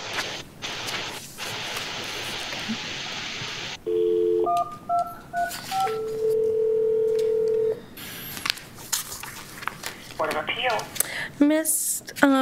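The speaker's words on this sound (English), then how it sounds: "if anybody wants to call in, they have a chance to dial in" A conference line at a county Board of Appeals meeting plays a steady dial tone, then a run of clear touch-tone keypad beeps at an uneven pace, followed by a few faint clicks and noises.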